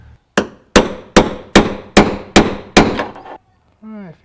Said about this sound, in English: If I get a hammer, hammers are always the answer.